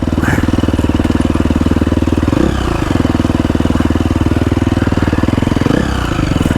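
A four-stroke motorcycle engine thrums close and loud throughout a hill climb at Laxey Mines, holding a steady pulsing drone with brief dips in revs.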